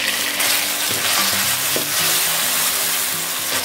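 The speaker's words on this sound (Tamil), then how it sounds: "இப்போ இதில் நம்ம வெட்டி வச்சுருக்கிற தக்காளியை சேர்த்துக்கலாம்." Chopped tomatoes land in a pan of frying onion and garlic for a Chettinad okra dish, and a loud steady sizzle runs throughout with stirring clatter on top, close up and with no voices.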